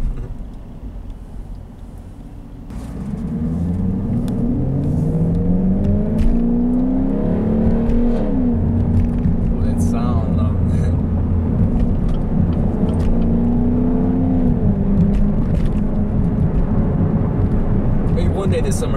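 A Chevrolet SS engine runs steadily with rising and falling pitch as it drives, loud and continuous after a quieter opening couple of seconds.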